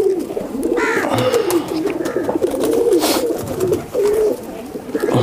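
High flyer pigeons coo in close, repeated soft calls, joined by flapping and shuffling, while a person talks in the background.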